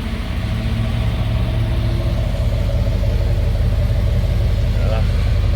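A 1990 Chevrolet Silverado 4x4 pickup fitted with a Gibson chrome exhaust tip idles steadily, a low continuous engine rumble heard up close, with some voice audible faintly alongside.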